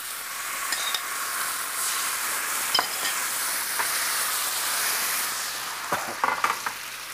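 Shrimp fry in hot oil with a steady, bright sizzle, broken by a few clinks and stirs of a utensil.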